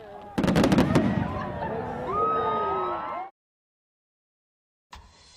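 Fireworks at a bonfire night display, with a rapid burst of close crackling bangs followed by a long whistling, screeching rocket tone that cuts off, then a brief final pop.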